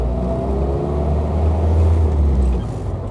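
A 1948 Willys Jeepster engine pulls away in first gear with a steady low mechanical drone that swells slightly midway and eases near the end, close and fairly loud with no voices.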